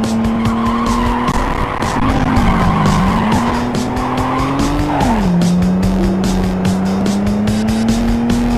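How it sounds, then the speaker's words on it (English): A car drifts in the racing video game Hot Import Nights, its tires squealing continuously and loudly, with the pitch dipping and sliding while engine roar runs underneath. "That's a 3-second drift."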